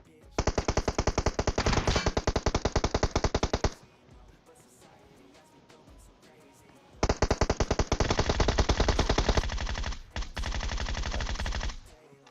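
Rapid bursts of automatic gunfire in PUBG Mobile, two long volleys separated by a brief lull, loud and sharp like video game weapons.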